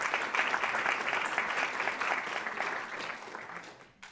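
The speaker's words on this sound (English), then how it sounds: "We can do a round of applause there as well." An audience at a public talk on sea level rise in Monterey breaks into sustained applause, with dense steady clapping throughout that thins slightly near the end.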